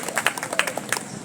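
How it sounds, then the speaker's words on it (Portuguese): Churchgoers at an outdoor street service applauding, a brief burst of scattered, uneven hand claps at moderate distance. "Palmas para Jesus."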